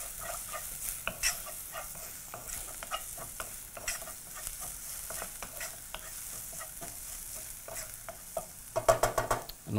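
Green peppers fry with dried herbs and spices in an oiled pan over medium heat, giving a steady sizzle broken by frequent scraping stirs, with a burst of sharper clatter near the end.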